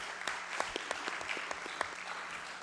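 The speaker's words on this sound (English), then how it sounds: "So can we give the drivers a round of applause?" Scattered applause in a legislative chamber during a congress session, thanking the drivers, a handful of distinct, rhythmic claps standing out over a soft background, fairly quiet and brief.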